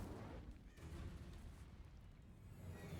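A fire spell blasts in a Harry Potter wizarding video game, a dense roaring burst of flame and rumble that fills the whole stretch loudly and steadily, with no voice over it.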